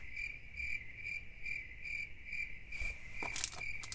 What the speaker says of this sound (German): Zirpende Grillen, bitte.